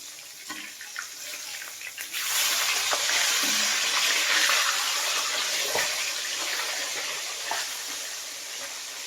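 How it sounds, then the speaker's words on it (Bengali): Whole fish frying in oil in a pan, with a loud, steady hiss and sizzle that rises after a couple of seconds and continues with faint crackles, no talking. "মাছটা ভেজে তুলে নেব"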